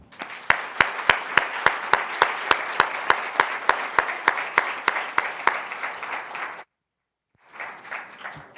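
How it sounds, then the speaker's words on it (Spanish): A seminar audience gives three speakers a strong round of applause, a dense wash of clapping punctuated by a regular rhythmic beat of loud unison claps, cutting off abruptly before a short second burst of applause resumes. "los invito a que les demos las gracias a nuestros tres excelentes ponentes, Richard, Saki y Jorge, con un fuerte aplauso"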